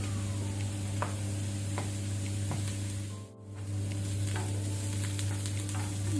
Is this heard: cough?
no